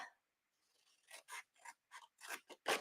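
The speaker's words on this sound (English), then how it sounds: "So I'm going to cut from the back. And we're going to cut up each of" Scissors cut designer series paper from the back while making a gift box card, about seven quiet, crisp snips in quick succession.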